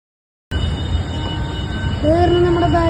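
Metro train in Ernakulam, a sustained rumble of rolling wagons that starts abruptly after silence, with wheel squeal rising into drawn-out tonal whines near the end, close and loud.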